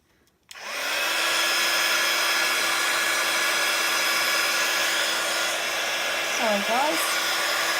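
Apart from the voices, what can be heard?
heat gun blowing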